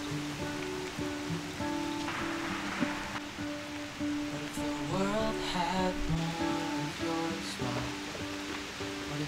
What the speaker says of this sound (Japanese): めっちゃ降ってるね。